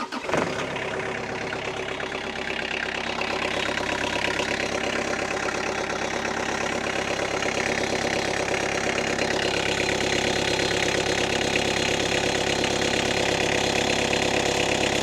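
A Vermeer S800TX mini skid steer engine cranks and catches, then settles into a steady, loud, close idle that drones on without letup.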